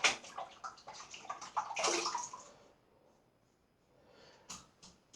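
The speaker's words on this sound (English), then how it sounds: "Give it a cursory rinse." An oak-handled shaving brush being rinsed in water: close, splashy running and sloshing water for a couple of seconds, then a faint lull and a few brief drips and swishes.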